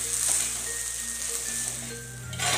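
Soaked poha tossed with onions in a hot pan sizzles softly and continuously while it is stirred and mixed, with a faint scrape near the end.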